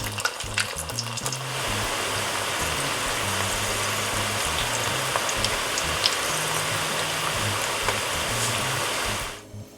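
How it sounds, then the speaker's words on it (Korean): Continuous crackling sizzle of pork ribs deep-frying in hot oil, close and steady, with faint low hum underneath and occasional pops. "두 번 튀기면 으르스름해지고 더 바삭하게 먹을 수 있습니다."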